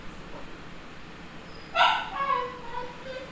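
A dog gives a short burst of barks and yips at moderate distance, with fainter follow-up whines trailing off over a steady background hiss.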